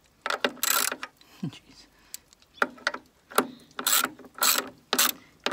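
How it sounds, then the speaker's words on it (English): A ratchet snugs down stock bolts on Mini Cooper S R56 camber plates in several close, sharp clicking bursts with short pauses between them. A voice briefly exclaims once. "I'm just going to tighten them down kind of snug with the ratchet"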